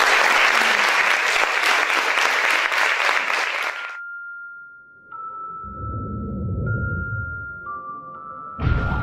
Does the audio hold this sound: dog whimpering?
no